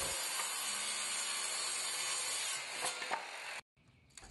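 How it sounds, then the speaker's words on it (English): A saw cuts through 3/4 inch plywood pieces for a chimney swift tower box, producing a steady, loud, close grinding rasp that runs for several seconds and then stops abruptly. "Measure and cut these pieces using more 3/4 inch plywood."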